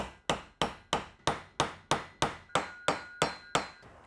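Eleven evenly spaced hammer blows ring out as universal joint bearing caps are tapped into place on a Toyota Land Cruiser 80 Series, each a crisp metallic tap with a short decay, close and fairly loud.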